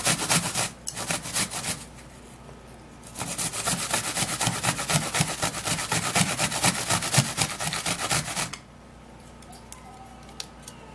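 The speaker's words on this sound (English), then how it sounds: "and then we'll grate it to get the apple juice" An apple rubbed against a grater in steady back-and-forth strokes, close and fairly loud, with a short burst at the start and a long continuous run of rasping before it stops.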